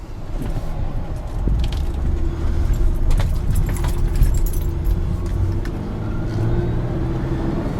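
Cabin drive in a 2001 Honda Odyssey minivan with a bad transmission, holding a steady engine and road rumble throughout, with faint rattles and jingles on top and no talk.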